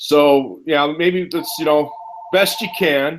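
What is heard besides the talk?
mobile phone ringing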